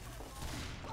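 A mini sentry gun in the Team Fortress 2 video game firing a rapid, steady stream of shots for a moment, fairly close and dense.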